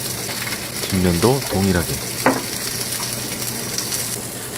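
Thinly sliced asparagus and eggplant, seasoned with salt and pepper, sizzle and fry steadily in a hot pan. A brief spoken phrase sits over the constant crackle, with a few light scraping touches.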